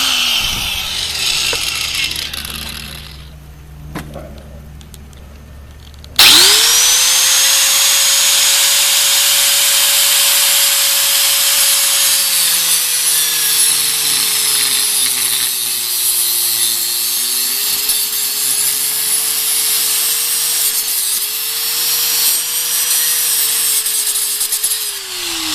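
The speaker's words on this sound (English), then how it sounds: "So I got a cutoff wheel here" An abrasive cutoff wheel spins up with a sudden jump to a loud, steady high whine and grinding hiss as it cuts through metal tube for a lawnmower handle repair, the pitch sagging and recovering under load, following a few quieter handling sounds.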